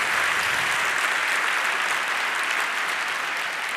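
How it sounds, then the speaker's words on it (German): Sustained applause from a large audience at a hacker congress closing event, dense steady clapping filling the space and fading slightly toward the end. "was auch wieder mal ein Applaus wert ist"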